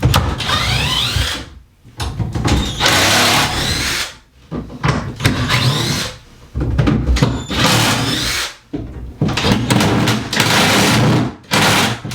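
Screwed-on bottom and side trim being worked off old pine drawers with a power tool, loud bursts of whirring and rattling broken by short pauses, close by, with no talking.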